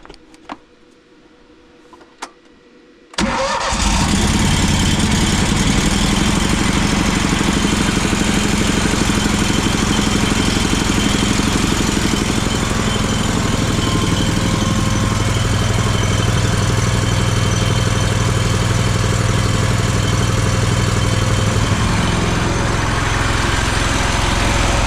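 Gasoline engine on a drywall texture spray trailer cranks up after a few seconds of quiet handling noises, then settles into a loud, steady close-up idle that runs uninterrupted to the end.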